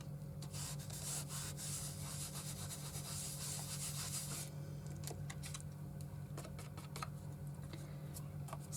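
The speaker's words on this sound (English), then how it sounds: "the thing I like about this scoochie is then you just rub it along and it takes off anything that shouldn't really be there." Steady, close scraping as a scoochie tool is rubbed along a paper craft piece, a continuous rasping texture with small ticks, then a lighter stretch of scratching toward the end.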